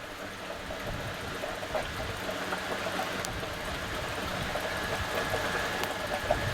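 A waste-oil distiller processes dirty diesel fuel with a continuous, even mechanical hum and low rumble, with faint ticks over a constant running noise and no voices.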